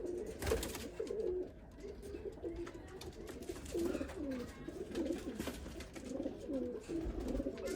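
Pigeons coo repeatedly in a breeder's loft, several birds overlapping in soft, throaty, rolling calls that carry steadily through a quiet indoor space with no talking.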